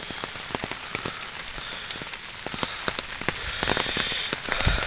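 Rain falls steadily on a fog-covered plateau in the Konkan countryside, a dense patter with scattered louder drops that swells slightly toward the end, with no voices.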